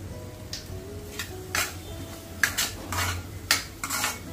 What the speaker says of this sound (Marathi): अंडी छान परतून घेते।